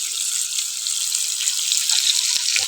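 Water streams into a hot pan of frying onion, tomato and masala for a chicken and pea gravy, a bright continuous splashing hiss with faint sizzling pops near the end.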